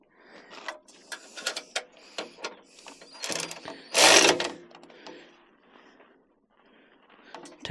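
A 9/16 ratchet clicks in quick uneven bursts as Harley exhaust header bolts are tightened, with metallic rattles and one louder clatter in the middle, close up.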